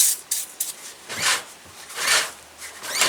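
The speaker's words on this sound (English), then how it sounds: "And the way I do it is I spray right here and then turn the wheel" Lubricant sprayed onto a bike chain while the wheel turns, several short hissing bursts at close range mixed with light rubbing and ticking from the chain.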